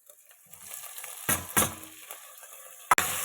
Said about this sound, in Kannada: 1 ನಿಮಿಷ ಚೆನ್ನಾಗಿ ಫ್ರೈ ಆಗಬೇಕು ಎಣ್ಣೆಲಿ